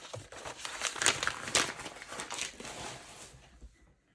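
Scrap paper from card-making with foil and acetate is crumpled and pushed aside, a steady crinkling and rustling that rises and then fades, close and unaccompanied.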